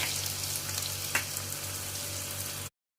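Chopped garlic and a piece of ginger fry in hot oil with a steady, loud crackling sizzle and one brief stir, then the sound cuts to silence.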